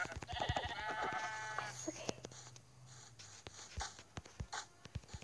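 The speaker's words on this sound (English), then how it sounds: "Yes, I only found two sheep." A sheep in a hardcore survival video game gives a short, nasal bleat near the start, followed by scattered sharp taps and clicks, with speech present over parts of it.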